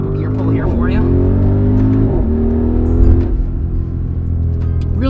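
An Audi RSQ8 SUV accelerates hard through several gears, its engine climbing in pitch and dropping at each quick shift, loud and close, with someone talking over it.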